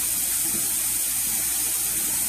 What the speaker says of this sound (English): You notice the sink kind of drains now?